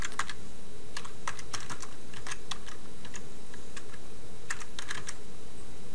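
Fingers type on a computer keyboard in quick clusters of close, crisp key clicks with brief pauses between bursts, over a steady background hiss, with no talking.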